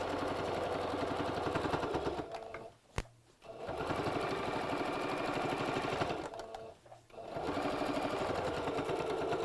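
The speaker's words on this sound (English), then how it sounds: "Then I'm just going to take the needle over by, again, about 1/2 inch and sew the second row with the needle down." A sewing machine stitches rows across fabric for an Easter bunny bag, a loud, fast, steady mechanical whirr that stops twice briefly before running again.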